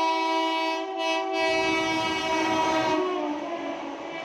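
Coromandel Express at Howrah station sounding a long, loud, sustained multi-tone horn, with rumbling rail noise underneath that fades slightly toward the end.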